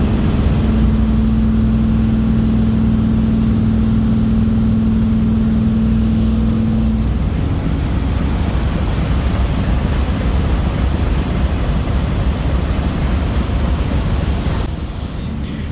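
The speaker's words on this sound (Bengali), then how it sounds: "হালকা গতিতে চলতেছে লঞ্চটা।" A Kuakata 2 passenger launch cruising slowly, with a steady, loud low engine drone and propeller churn over water, a faint constant tone fading out midway, continuous and close throughout.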